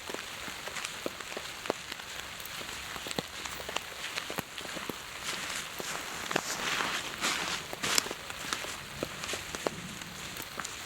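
Rain falls steadily in a remote foggy forest at a backcountry campsite, soft patter overlaid with scattered nearby drips and taps at a quiet level, with no talk.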